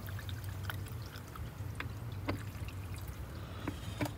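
Coolant trickles and pours steadily into the radiator of a 2013 Dodge Durango during a radiator replacement. The quiet, continuous liquid flow carries occasional small drips and splashes over a low background hum.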